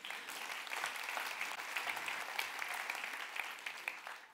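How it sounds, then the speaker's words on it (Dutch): A Dutch lecture audience in Tivoli breaks into steady, fairly distant applause, a continuous dense patter of many hands that holds evenly for several seconds, then begins to fade. "Nou, applaus."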